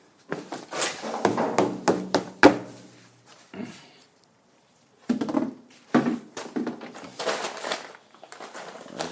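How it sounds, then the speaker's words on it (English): Loud clattering and knocking of objects being dumped and handled, with scraping thuds, a brief pause, then more rattling and banging nearby. "Excuse the noise, as usual. Gotta empty the garbage."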